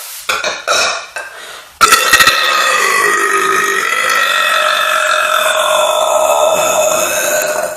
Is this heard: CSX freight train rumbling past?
no